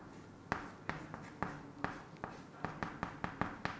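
A pencil scratches across paper in quick, irregular strokes, about a dozen short sharp marks close to the microphone, quiet and alone with no talking.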